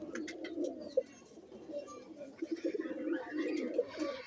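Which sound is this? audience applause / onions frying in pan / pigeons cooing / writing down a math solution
pigeons cooing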